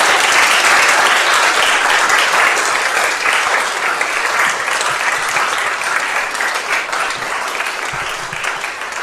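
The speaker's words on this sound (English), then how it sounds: "Please give them all a round of applause." A church congregation at an All Souls Day service and memorial garden dedication breaks into a full round of applause, a loud, dense wash of clapping that holds steady and then slowly eases off.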